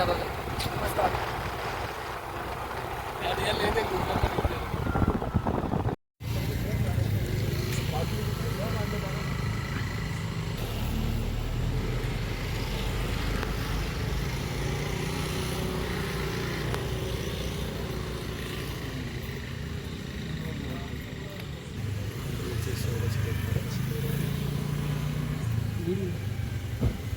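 A motorbike engine hums and rumbles steadily through a late-night ride in Pune, with low road drone running throughout beneath people talking.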